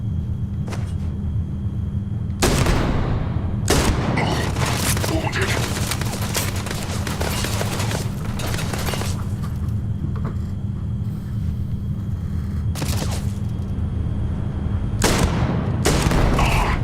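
Sustained gunfire in the Starfield video game, dense bursts of shots rolling on for the whole stretch with loud impacts, while a voice talks over the shooting.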